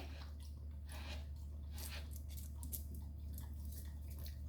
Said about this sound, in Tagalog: Dami niyang uminom ng tubig